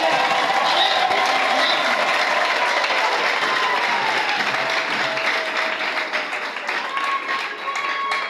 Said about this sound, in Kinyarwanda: Tumwongera amashyi n'umugabo arayakwiriye